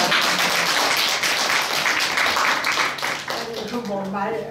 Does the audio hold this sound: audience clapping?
yes